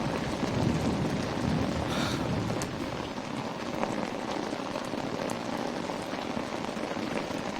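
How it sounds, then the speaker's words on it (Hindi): Heavy rain pours down steadily, a dense continuous hiss of drops drumming on surfaces with no voices. "बारिश बहुत तेज है"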